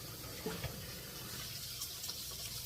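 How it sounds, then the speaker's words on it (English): Hands washed under a running sink tap, a steady, faint stream of water with soft splashes and no talking. "So let me wash my hands one more time."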